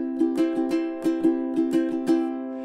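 Ukulele played in an island strum pattern, a bright chord repeated in a lilting, syncopated rhythm of quick down-up strokes with a sharp accent on each stroke, close and clear with no talking.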